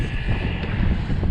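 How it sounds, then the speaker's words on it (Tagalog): Strong wind buffets the microphone while cycling on a tour in Dingalan, Aurora, a loud continuous roar with low rumbling gusts. "Ang problema, lakas ng hangin."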